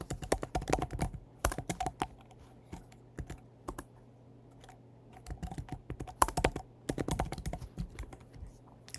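Rapid bursts of typing on a computer keyboard while writing JavaScript code, close and crisp, with clustered keystrokes separated by short pauses; no talking.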